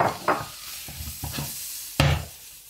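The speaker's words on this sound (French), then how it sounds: "On mélange bien." Pepper, onion, olive and garlic that were sautéed earlier are stirred into squid for a Provençal stew. Soft scraping strokes repeat over a steady sizzle in the pan, close by and moderately loud.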